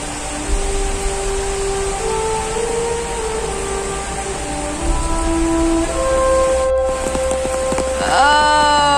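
Steady rain hisses down during a nature walk near a cemetery, a continuous even wash of noise with faint tonal hums threading through and a brief sharp rising squeal near the end; no one speaks.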